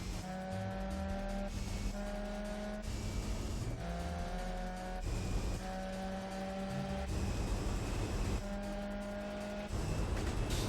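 Race cars in the Gran Turismo 4 video game, American cars only, with steady engine tones rising and shifting through gears over a continuous roar, tires hissing, no talk.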